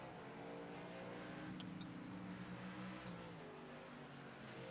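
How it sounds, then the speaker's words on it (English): Race truck engine on the Martinsville short track during an Extreme Truck Series session, a faint, steady drone heard from a distance with a few brief high-pitched bursts over it. "Matt Garrett turning some laps, making sure that he's got that brake bias set where he wants it"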